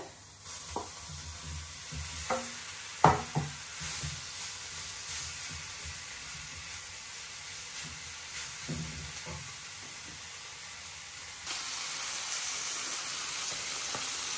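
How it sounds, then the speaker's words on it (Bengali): Stinging catfish sizzles and fries in a pan with onion and green chilli, with a soft continuous hiss broken by occasional clinks and scrapes of stirring, close by. "এই যে দেখো শিং মাছটা ভালোভাবে যে কষানো হয়ে গেছে"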